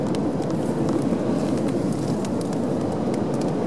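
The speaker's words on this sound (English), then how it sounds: "That is the sound of sandhoppers." Sandhoppers swarming over a beach at night near a tent, a dense, steady crackling patter much like rain on a surface, continuous and fairly loud throughout with no talking.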